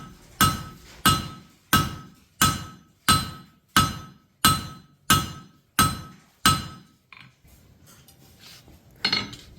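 Ten heavy hammer blows from a 3-pound hammer shaping a taper into 1/2 inch steel bar, struck at a steady rhythm, each a loud ringing clang, then quieter shuffling and one final knock.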